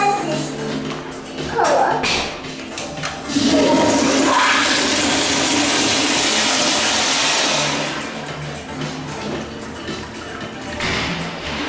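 A toilet in a restaurant restroom flushes loudly and close, a rushing whoosh of water that swells, holds for several seconds and then drains away, with brief voices and handling sounds before it.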